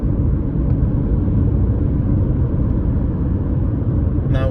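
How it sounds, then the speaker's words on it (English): A 2015 BMW 520D diesel car cruising at about 80 km/h on a national road, heard as a loud, steady low rumble of engine and road noise from inside the cabin, with no talking. "Now we're driving on national roads with 80 kilometers per hour."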